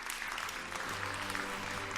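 A conference audience at a banking and finance marketing-technology talk claps as a guest is invited onstage, a brief burst of steady, moderately loud applause from many hands filling the room.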